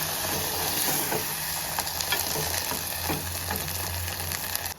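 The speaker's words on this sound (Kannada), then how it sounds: "ಇವಾಗ ಇದಕ್ಕೆ ಚೂರು ನೀರು ಹಾಕೊಳ್ಳೋಣ" A tomato-based red chutney mixture with turmeric sizzles and bubbles in a pan after a splash of water goes in, a constant close hiss with a few soft stirring scrapes.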